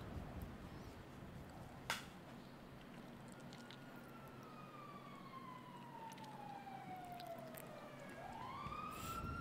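An ambulance siren in the game GTA 5 roleplay wails steadily, with a long descending sweep that rises sharply again near the end, over a constant low engine drone and a single sharp tap.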